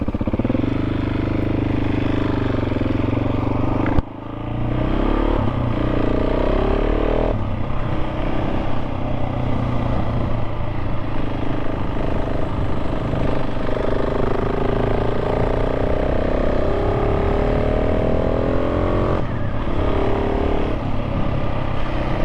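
A 2024 KTM 690 SMC R single-cylinder motorcycle ridden along tight, bumpy back lanes with some gravel. The engine drones loud and steady throughout with shifting revs and a brief dip near the start. Nobody speaks.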